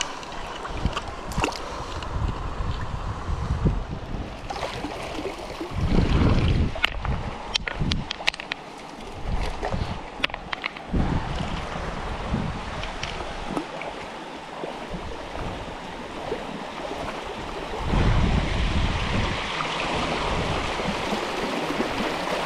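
Water rushes steadily through a gold sluice in Northern California, a continuous splashing flow with occasional knocks and louder surges.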